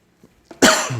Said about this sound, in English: this will make you cough if you stand really close to the rub